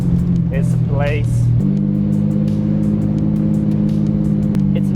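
A Lamborghini Aventador SV or Diablo VT cruises through town with a low, steady engine drone that shifts pitch once partway through, close and loud, while a voice speaks briefly over it at the start.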